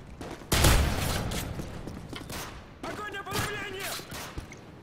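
A shotgun fires in a video game survival level: a loud, booming blast, then a stretch of clattering, mechanical weapon and gunfire noise, with a voice shouting over it.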